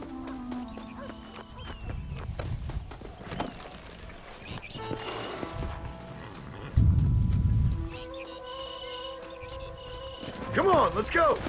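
A horse in the video game Red Dead Redemption moves with intermittent hoof clops and a whinny amid game ambience and music, with people talking at times over the sounds.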